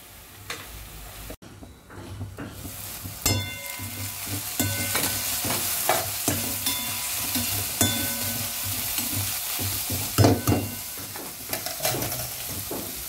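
Onions sauté in a pan with a close, continuous sizzle. Repeated clicks and scrapes of a spoon stirring them mark the frying at an uneven rhythm.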